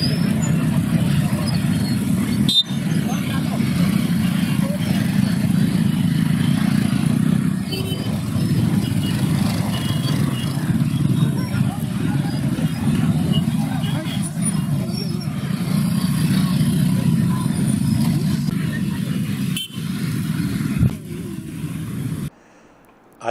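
Many motorbikes ride in a large voter-awareness rally of teachers, a continuous low engine drone with occasional passing clatter, heard under a narrator's voice before cutting out near the end.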